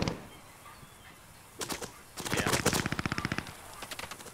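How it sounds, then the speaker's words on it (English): A British machine gun fires in Post Scriptum during a Battle of Arnhem event, with short bursts followed by a long rapid string of shots fairly close by, slowing at the end, over background battle noise. "Oh, he's hopping on the machine gun."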